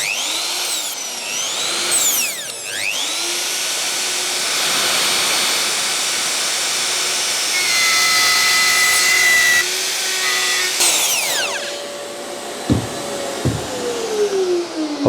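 A high-pitched power router whines and revs while cutting wood pieces for a wooden box build, its tone shifting and dipping as it bites into the workpiece and spins down near the end, loud and close without talk.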